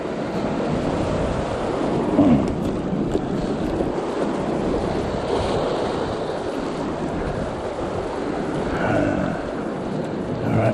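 Waves wash up onto a beach on a coastal walk near Waratah Bay, a steady broadband rush of surf mixed with wind noise across the whole stretch, fairly loud and continuous.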